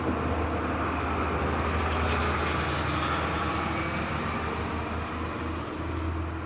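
Steady, loud road traffic with trucks passing nearby, a continuous low engine rumble and tire roar that swells and fades slightly without a break.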